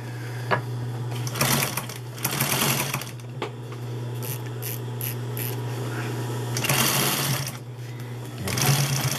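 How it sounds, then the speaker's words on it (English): Close by, a Consew 206 RB industrial sewing machine runs with a steady motor hum under bursts of rapid stitching clatter, starting and stopping several times. "Say you were doing sewing some hard sew materials, or something with a lot of seams."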